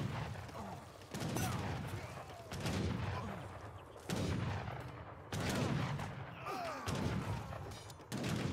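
Bombard cannon and battle gunfire in Age of Empires III: Definitive Edition, several heavy booming blasts at roughly one-second intervals, each followed by rumbling crackle, with a dense, loud battle din throughout.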